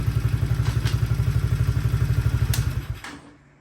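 An Apollo Commander 125cc automatic engine idles with a loud, close, rapid thumping putter as the clutch engages and it goes into gear, then the running note fades away near the end; no one speaks.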